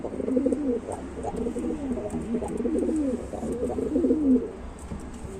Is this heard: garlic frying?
no